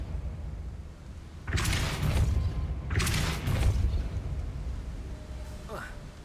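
The Depulso force spell in Hogwarts Legacy bursts out twice as loud, rushing blasts with a booming, whooshing body, each fading over about a second against a low ambient hum.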